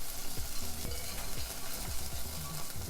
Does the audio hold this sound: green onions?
yes